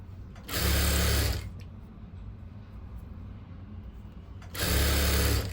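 A sewing machine stitches thread piping onto fabric in two short, loud mechanical runs, each about a second long, separated by a quieter pause.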